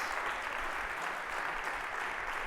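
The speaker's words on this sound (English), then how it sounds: "Can we give a round of applause to our friend and wonderful musician" Audience applauding a musician at a talk event, a steady dense wash of clapping at moderate distance, sustained without pauses.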